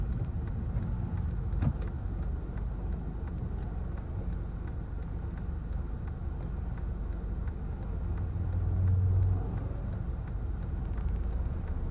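Rush-hour road traffic gives a steady, continuous engine rumble. A vehicle passes a little louder near the end, with no talking.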